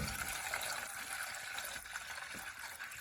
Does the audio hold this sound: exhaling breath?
no